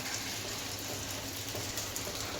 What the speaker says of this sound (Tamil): மழை வந்துட்டு தான் இருக்குது